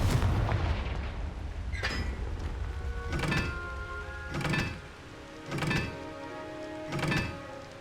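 Hogwarts Legacy's fiery Confringo blasting spell lands as a series of heavy booming explosions, spaced a second or so apart, each a sharp thump with a rumbling tail.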